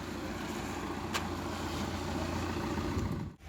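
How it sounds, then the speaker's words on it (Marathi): A new Tata car drives along a road, giving a steady, close engine hum and broad road noise that runs continuously and dips briefly near the end. "तर फायनली आता आमची चालली गाडी"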